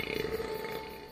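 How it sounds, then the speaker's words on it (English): A cartoon woodpecker relaxing on a pond lets out a single drawn-out belch, close and fairly loud with a buzzy tone, heard alone. "we see Woody relaxing on the pond belching"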